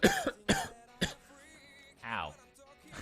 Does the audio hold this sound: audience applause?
no